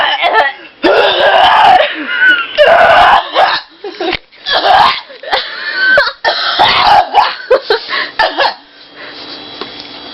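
A person lets out a long run of loud, close, rough burps, some drawn out and some short and choppy, with brief gaps between them.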